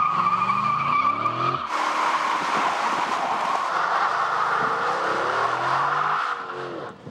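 A Dodge Charger SRT muscle car does a burnout, its engine roaring before a loud, sustained tire squeal breaks in and holds for several seconds with the revs rising and falling, close and intense.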